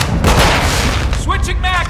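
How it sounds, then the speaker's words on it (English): Flash grenade goes off during Call of Duty: Modern Warfare 2 Team Deathmatch on a hotel map, a loud burst tangled with gunfire and game noise, with voices talking over it. "Throwing flash grenade!"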